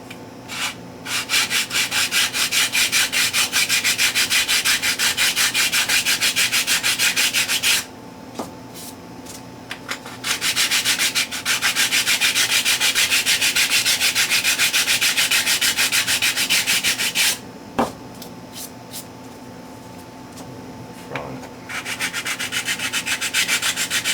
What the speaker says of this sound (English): I'm just going to chamfer the edges here with the sanding block.